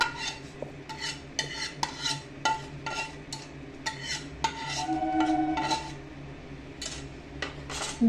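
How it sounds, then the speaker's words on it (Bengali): Curry leaf tempering stirred into chicken in a pot, a close run of rhythmic spoon scrapes and knocks against the metal with a faint sizzle underneath. "এবার এই চিকেনের মধ্যে ওই ফোড়নটা দিয়ে দেবো"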